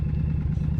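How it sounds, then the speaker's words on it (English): A motorcycle engine running in a garage after sitting unused over winter, a low steady rumble with a continuous rhythmic throb at close range and no talk. "The engine cranks, and suddenly the garage fills with that familiar growl again."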